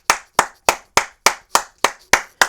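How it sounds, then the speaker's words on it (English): Nine slow, evenly spaced hand claps ring out close and loud, each sharp strike followed by a short decaying echo, with no talking. "Boy, can we clap it up for the family, folks?"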